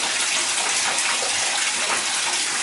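Water runs into a bathtub from a newly repaired tub spout in a steady, loud, unbroken rush that fills the whole stretch without talk.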